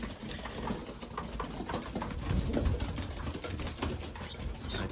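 Racing pigeons cooing and shuffling inside a loft during moulting season, a soft continuous murmur of coos with faint patter and wing sounds, moderately near and without speech.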